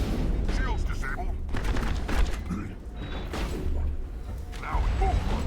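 Heavy shotgun blasts from a Krogan in Mass Effect boom amid mechanical clanks and whooshes, several loud shots spaced irregularly over a dense game soundscape, with a voice talking over it.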